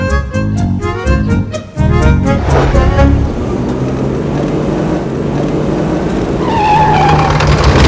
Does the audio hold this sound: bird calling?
no